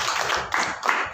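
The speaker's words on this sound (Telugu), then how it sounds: "చప్పట్లు కొట్టండి" A church congregation at a Sunday service claps in unison, three rhythmic bursts of hand claps filling the room without talk over them.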